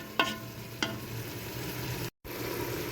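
Steady sizzling of mutton being browned in a hot pan for shuljum, with two sharp clinks early on and a brief dropout near the end.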